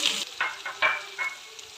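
Chopped onion dropped into hot ghee and coconut oil with mustard seeds, sizzling and crackling in repeated bursts as it is stirred, close and fairly loud with no talking.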